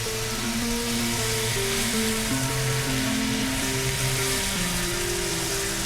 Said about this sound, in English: So I'm gonna go ahead and pop my shrimp in there.